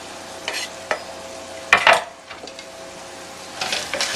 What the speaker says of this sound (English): Now I'm going to put the garlic in.